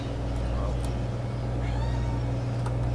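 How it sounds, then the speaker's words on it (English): A cat meowing a few times, faint and brief, over a loud steady hum and game background sounds. "And that fucking cat keeps on annoying me."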